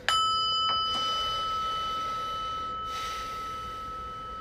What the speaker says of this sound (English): I'm going to take a breath and ring the prayer bell